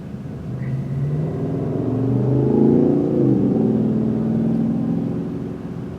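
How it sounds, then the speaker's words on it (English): Road traffic heard from inside a car on a freeway drive to work, a continuous engine and tyre rumble that swells as a vehicle accelerates past mid-way, then eases off, with no talking. "Traffic, traffic, traffic."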